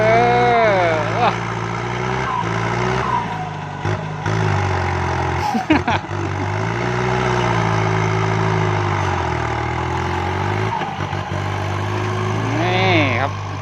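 A Kubota MU5702 tractor engine, used for pushing soil, runs at a steady idle with a deep, continuous drone, close and loud, while voices talk over it.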